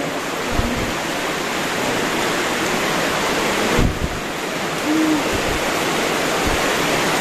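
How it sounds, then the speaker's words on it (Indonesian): A waterfall pours down into a broad open area, a dense, steady roar of rushing water heard close and loud throughout, with no talk. "ada air terjun ke bawah"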